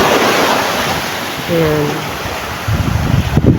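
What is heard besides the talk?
large ocean waves hitting a boat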